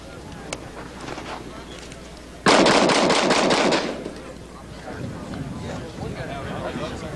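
A gun fires a rapid, close burst of shots lasting over a second, loud and sharp, set between stretches of someone talking with faint outdoor background noise.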